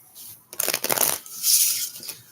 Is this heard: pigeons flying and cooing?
no